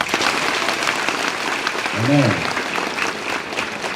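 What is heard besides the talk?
applause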